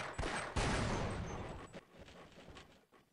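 Loud bursts of gunfire from the Half-Life video game, a heavy volley up front that thins into scattered, fading shots, with no talking over it.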